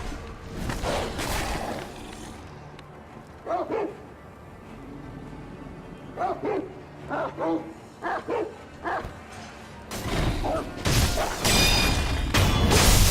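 Dogs bark in the video game Sekiro: Shadows Die Twice, repeated sharp barks and yips in clusters over game noise and clashing, loud and close, with heavier combat sounds toward the end.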